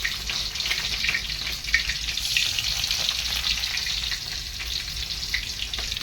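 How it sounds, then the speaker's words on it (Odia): Green chilies and onions fry in hot oil, giving a steady, bright sizzle that runs unbroken throughout at close range, with faint stirring noises and no talk. "କଟର କଟର କରିକି ଟିକେ ଭାଜିଦେବା।"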